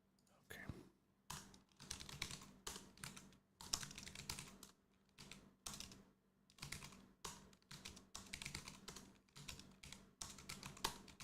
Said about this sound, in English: I'm just typing a love note to my wife